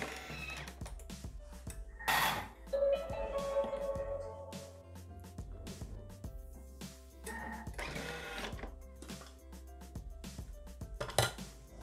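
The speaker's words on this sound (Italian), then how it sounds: "azionare il bimby per 30 secondi a velocità 4" A Thermomix (Bimby) TM6-style food processor running briefly at speed 4 while mixing a yogurt savory pie batter, giving a steady whirring motor hum with some clattering knocks and a louder burst near the start, with no talk.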